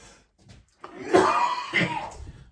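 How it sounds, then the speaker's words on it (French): A person coughs after tasting a Harry Potter candy: a couple of harsh, close coughing bursts that rise after a short quiet pause, with light throat sounds around them. "le pauvre il est là en train de tousser"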